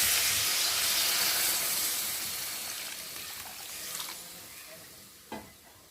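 Water poured into a hot pan of simmering Bengali chorchori with pui shak (Malabar spinach), lote (Bombay duck) fish and melted eggplant gives a steady steam hiss and sizzle that slowly fades, with a faint stir or clink near the end.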